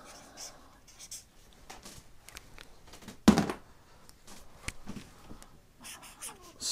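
Pen scratching words onto paper close by, a soft, steady scribble broken by a few brief taps and one sharper knock partway through.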